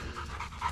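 A hunting dog pants hard after retrieving a quail on a preserve quail hunt in Georgia, a steady close rhythm of quick breaths with no talking.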